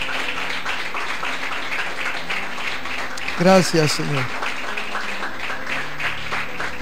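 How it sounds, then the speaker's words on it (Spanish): Church congregation at a Spanish-language service applauding, a broad wash of clapping running the whole time under a brief spoken thanks in the middle. "Denle una ofrenda de aplauso al Señor."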